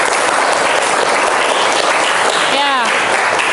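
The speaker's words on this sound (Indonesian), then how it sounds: "tepuk tangan untuk semua kelompok yang hari ini sudah aktif." Classroom applause for all the student groups, a steady, dense clapping wash filling the whole stretch, loud and close, with a brief voice rising through it near the end.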